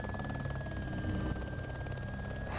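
A helicopter flies steadily in the video game ARMA 2 DayZ. It gives a loud, continuous rotor drone with a rapid beating pulse and a constant high whine, with no talking.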